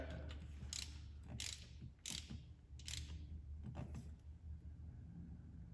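A ratchet wrench tightens the lifter bolts on a Dodge Hellcat HEMI engine: a quiet, close series of about six crisp ratcheting clicks in an even rhythm over a low background hum, no talking.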